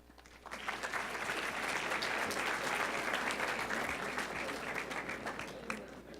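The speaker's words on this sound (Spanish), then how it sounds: "Se merece un aplauso nuestro señor candidato." An audience at a university forum with candidates for governor of Jalisco breaks into loud, sustained applause for a candidate. The clapping swells quickly and stays even for several seconds before easing off.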